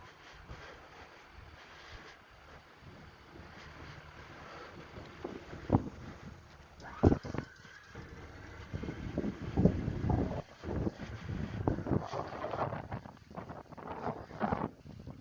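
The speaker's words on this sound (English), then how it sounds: "It's a little windy out here, so sorry if the wind's blowing." Wind gusts outdoors beside a truck hauling damaged campers, buffeting the microphone with low rumbling bursts that grow stronger and more frequent toward the end, no talk.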